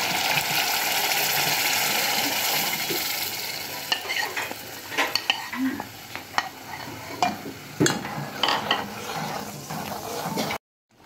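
Tomato chutney gravy with grated garlic bubbling as it cooks in a pan: a steady close sizzle, then irregular popping and spattering bursts.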